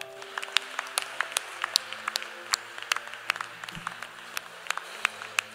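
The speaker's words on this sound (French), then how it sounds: "Acclamez pour vous-même." An audience at a church gathering applauds, with sparse, irregular claps from a modest crowd sounding close and light.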